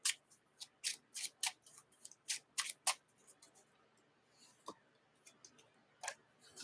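A deck of Marvel Champions game cards being reshuffled: a quick run of crisp riffling bursts, then a pause and a few scattered card snaps, close and fairly quiet.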